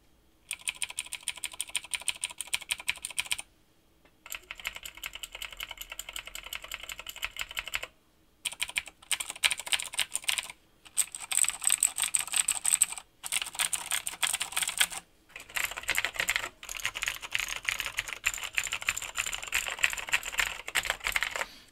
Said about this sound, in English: let's hear how they click on this keyboard